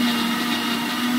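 A kitchen mixer grinder runs steadily, a loud continuous motor whine with a constant hum, close by and uninterrupted, no voices.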